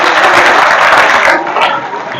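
Applause breaks out at a youth group gathering, a dense burst of clapping that fills the space for over a second before thinning and fading out.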